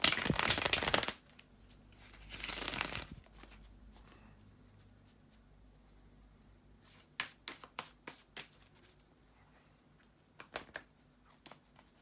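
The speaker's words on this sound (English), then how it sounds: "bear with me a second, guys, to shuffle the tarot cards" Tarot cards are riffled and shuffled at close range, with two long loud bursts followed by softer scattered flicks and taps as the deck is squared up.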